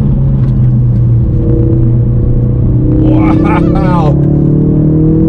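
A Ford Focus RS on stock Dunlop tires driven fast, with a steady loud engine rumble and road drone heard from inside the cabin while a passenger exclaims over it.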